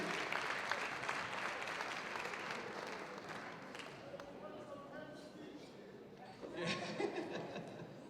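An audience at an annual convention's awards moment claps for the winners, a steady wash of applause that dips midway and then swells again, with a few chuckles and some talk mixed in.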